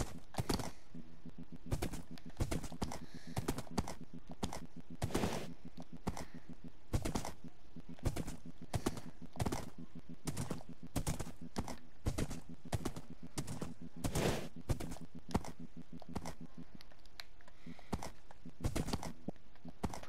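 Horse hooves clip-clopping in a video game, an even run of sharp, dry hoof strikes repeating at a steady trotting pace, moderately close with no talk over them.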